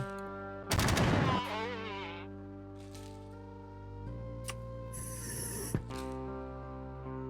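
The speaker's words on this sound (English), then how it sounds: "Yeah, I like this shotgun pretty well." A shotgun blast in the turn-based game Quasimorph, one loud burst near the start followed by quieter mechanical clicks and a sharp snap later, set over a steady droning game soundtrack.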